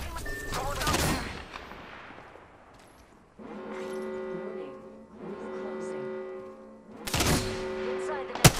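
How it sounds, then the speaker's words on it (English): Gunfire rattles toward the player in a ranked shooter match: bursts of automatic fire and sharp shots with long ringing tails, separated by quieter stretches, with a closing volley at the end. "Some blunt are shooting at me. They're shooting at me."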